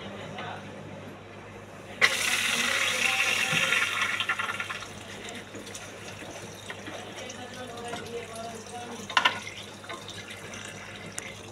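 Tap water runs into the drum of an LG automatic washing machine during cleaning, a sudden steady hissing gush that holds for a couple of seconds and then eases into quieter trickling and splashing, with a voice talking faintly.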